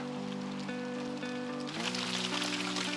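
Heavy rain pours down during a spring bike ride, forming a steady wash of noise with a droning tone beneath it, moderately close and without talk.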